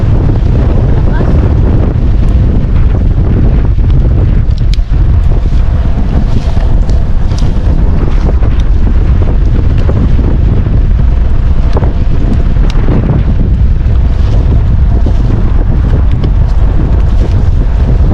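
Strong wind roars continuously against the microphone, a loud, rumbling blustery noise with water and boat sounds mixed in throughout.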